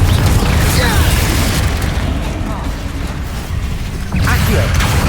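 Loud booming blast of the Confringo fire spell in Hogwarts Legacy, a dense roaring explosion filling the moment with a fresh burst near the end, with a voice calling out over it.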